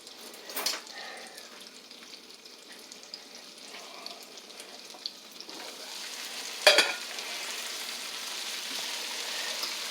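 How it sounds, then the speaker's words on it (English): Vegetables fry in butter in a pan while being stirred, a steady soft sizzle running throughout with a few brief clinks of a utensil against the pan, close by and without talk. "You gotta stir that because we don't want it burned on the bottom."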